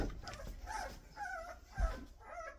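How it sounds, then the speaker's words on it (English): Puppies whimper and yip in quiet, high-pitched bursts, a few soft cries spread across a couple of seconds against a low background hum. "Do you hear the pups, guys?"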